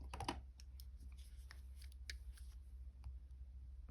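Wire snipped with cutters while wrapping a wire circle bracelet with hammered chain, a few quick sharp clicks near the start, then faint scattered ticks over a low steady hum.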